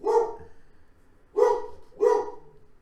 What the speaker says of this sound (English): The dogs are going crazy in the background.